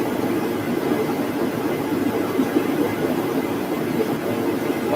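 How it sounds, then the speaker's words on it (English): A diesel-powered heater runs with a steady, loud, low roar and hum that holds without a break and has no talk over it. "I run my heater off diesel"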